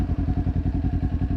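A Kawasaki Ninja 400 engine blips up on a rev-matched downshift, a close, low, rapidly pulsing exhaust note with throbbing rhythm throughout a short burst.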